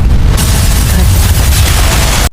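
A heavy explosion booms loudly, a deep roaring blast that sustains as a rumbling wall of noise before cutting off abruptly.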